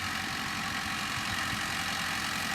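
A big Sonalika tractor engine idles steadily nearby, a low, rumbling diesel throb under a broad hiss, unbroken and without speech.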